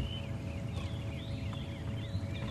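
Robins, doves, sparrows and other birds sing and chirp at once at sunrise after a night of rain, over a steady low background hum, a busy chorus of high warbling calls at moderate distance.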